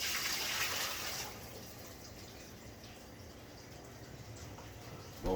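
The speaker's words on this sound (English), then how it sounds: "Pour the water." Water pours into a cooking pot for chicken drumsticks, a soft splashing rush that fades after about a second into quieter trickling and dripping.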